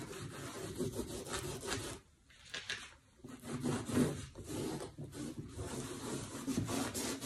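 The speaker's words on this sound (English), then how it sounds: "as you can hear the rag going over, it is completely smooth" A rag rubs sealant onto a painted, sanded and distressed wooden door, making a close, continuous scratchy swishing in repeated back-and-forth strokes, with a short pause partway through.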